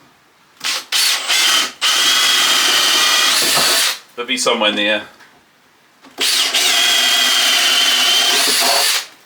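A hand-held power drill bores holes for 12 mm coach bolts through timber for a beehive stand, in three long loud whirring bursts with short pauses, plus brief clattering handling between them and a voice speaking briefly.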